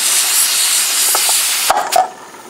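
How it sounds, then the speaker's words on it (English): A pressure canner of home-canned vegetable beef soup vents a steady, loud hiss of steam up close, with a few light metallic clinks near the end as the hiss drops away. "it's been spouting a steady stream of steam for 10 minutes"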